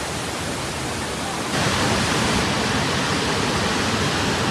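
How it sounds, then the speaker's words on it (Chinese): A large waterfall at Yuntai Mountain roars as steady broadband rushing water, loud and continuous, swelling noticeably about a third of the way through as it comes closer. "那瀑布在这儿，怪不得这里的水量大呢"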